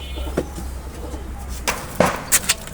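Teddy pigeons kept as a breeding pair give a few soft, low coos over a quiet background, with occasional light clicks and shuffles nearby.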